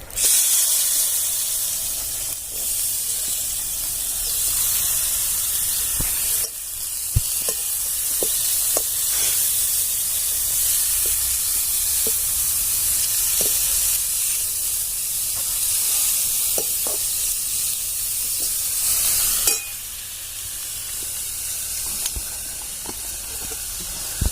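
Shredded cabbage with turmeric and chili powder frying in a pan, giving a loud, steady sizzle and hiss up close, broken by occasional clinks and stirring sounds.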